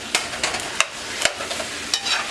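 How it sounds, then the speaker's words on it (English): Peppered fish stew being stirred in a pot, with repeated spoon scrapes and clinks over a soft, continuous sizzle. "And then you stir everything."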